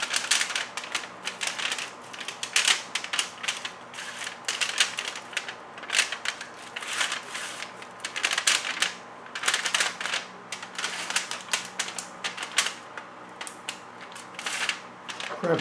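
Heat-treat foil wrap around knife blades is folded and crimped, giving dense, continuous crinkling and crackling with sharp clicks throughout, close and fairly steady.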